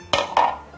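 A metal cake tin picked up in a kitchen, two quick clanks a split second apart, close and clear with no talk.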